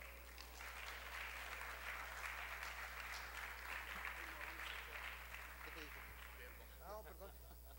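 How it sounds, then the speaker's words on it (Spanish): Sustained applause from a tourism forum audience welcomes speakers, steady clapping over a low electrical hum, with voices emerging toward the end. "a quien recibimos con un fuerte aplauso"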